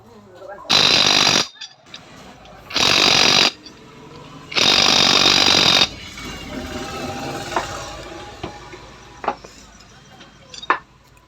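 A nut is tightened during engine assembly of a TVS Apache RTR 160 motorcycle; three loud, harsh bursts from a power tool, each a second or so long, are followed by quieter workshop clinks and taps.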